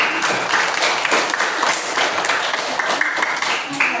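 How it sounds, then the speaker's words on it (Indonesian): Students clap together in a classroom during a peer-teaching lesson, a dense burst of applause that stays busy throughout, with some voices mixed in. "Oke, tepuk tangan untuk kita semua."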